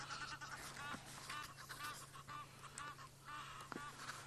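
Faint, repeated honking calls of Egyptian geese in the background, irregular and overlapping, over a low steady hum.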